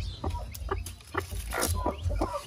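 A hen on a small farm clucks repeatedly in short, irregular bursts, close and fairly loud, over a steady low background rumble.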